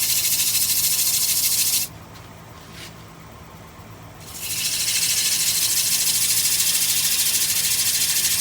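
Hand sanding a cherry wood bowl on a lathe with 100 grit gives a steady hissing rush that cuts out for a couple of seconds, then resumes just as loud.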